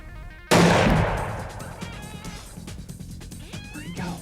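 A single loud rifle shot cracks out during a whitetail deer hunt, a sharp blast followed by a long rolling echo that decays over a few seconds, with faint outdoor sounds after.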